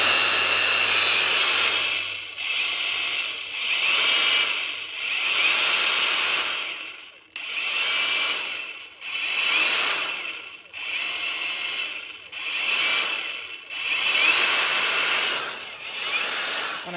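A cordless power drill with three torque settings and a trigger runs in repeated bursts of about a second or two, each spinning up and cutting off, loud and close with no talking.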